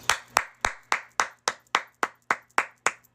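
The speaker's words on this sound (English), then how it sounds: "Clap it up." Steady hand clapping, about a dozen sharp close claps in an even, moderately quick rhythm with no other sounds.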